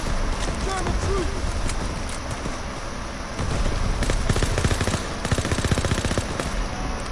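Rapid bursts of automatic gunfire from a World War II video game rattle over dense battle noise and explosions, with the firing growing faster and heavier partway through, and voices mixed into the chaos.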